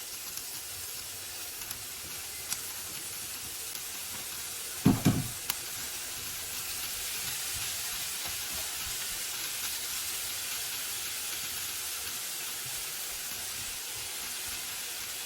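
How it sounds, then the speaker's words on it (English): Bean sprouts frying in a pan with bacon, garlic and onion, a faint continuous sizzle and hiss with one brief louder clatter as they go in, then steady quiet frying. "now I'm going to put the bean sprouts"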